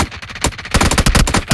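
Rapid bursts of P90 submachine gun fire in a video game, loud and close, with a short volley followed by a longer sustained stream of shots.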